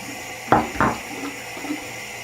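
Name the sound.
filling shaving bowl with tap water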